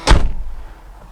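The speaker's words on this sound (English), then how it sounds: "I'm gonna close the door so we don't have to hear that." A single heavy car door of a 1979 Volvo 245 DL slams shut nearby, a sharp thud followed by a brief fading resonance.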